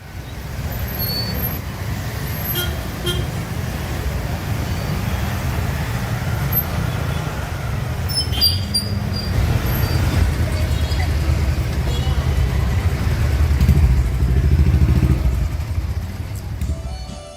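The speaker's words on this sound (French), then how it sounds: "les véhicules les plus nombreux sont les scooters et les petites motos qui pullulent bruyamment dans les rues étroites" Scooters and small motorbikes crowding narrow streets in Nepal, a continuous roar of engines and traffic noise with passing vehicles and occasional horns, loud and close, under intermittent speech.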